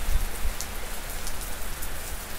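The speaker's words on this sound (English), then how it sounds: "The ambient noise would be the rain falling on my rooftop" Rain falls steadily on a house rooftop, making a continuous, even patter and hiss that lasts the whole stretch with no pauses. No voices are heard.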